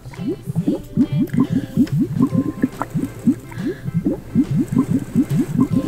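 Bubbles are blown through a straw into liquid full of Orbeez water beads, a fast run of close, wet bubbling gurgles pulsing in quick bursts with brief pauses between breaths.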